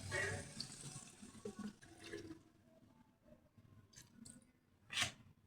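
Water runs and splashes briefly into a pan of frying fish and eggplant, with a short pouring burst followed by quieter kitchen clatter and a final splash.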